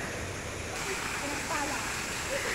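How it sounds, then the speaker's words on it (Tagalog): Rushing water from a waterfall on Ma Dai Stream in Sai Kung, running full after overnight rain, roars steadily as a broad constant wash close by, with faint voice-like traces over it. "Umulan po kasi kagabi, so marami pong tubig yung falls natin."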